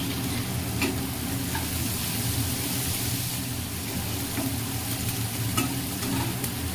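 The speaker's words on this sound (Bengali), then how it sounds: "পেঁয়াজটা নেড়ে নিয়েছি" Chopped onion frying in oil and being stirred in a pan: a dense, steady sizzle with occasional soft scrapes and ticks of the spoon, close and continuous, no voices.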